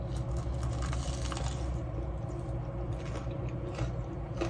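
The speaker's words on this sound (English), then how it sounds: "it's crunchy, it's cheesy, it's Caesar salad" Someone bites and chews a crunchy, cheesy Caesar salad wrap up close, with repeated crisp crunching and rustling over a steady low background hum and no speech.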